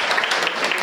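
An audience at a live comedy and music performance applauds briefly, with dense, steady clapping that sounds close and loud.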